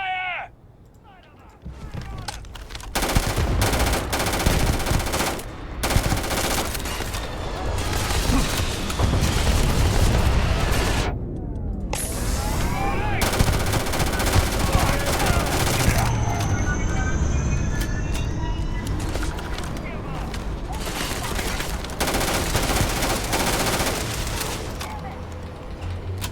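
A Starfield firefight with heavy continuous gunfire: dense rapid shots, bursts and booming blasts that pile up close and loud for the whole stretch, mixed with voices shouting underneath.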